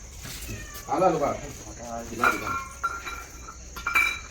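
A white cat lets out a couple of drawn-out meows close by, with background noise and faint voices around it.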